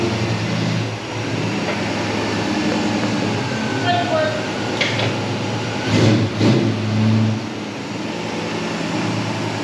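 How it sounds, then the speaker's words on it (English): A 1967 Ford Mustang with a V8 and FiTech EFI fuel injection rumbles low and steady as it moves under its own power for the first time, swelling briefly mid-clip, with voices talking over it. "The 67 Mustang is gonna move under its own power."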